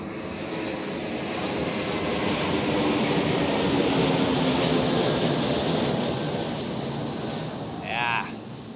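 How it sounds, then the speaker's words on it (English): A fixed-wing aircraft passes at Zurich Airport during a busy Saturday rush hour, its engines a steady, loud roar that fills the whole stretch, swelling slightly near the end. "And maybe we can see this aircraft already."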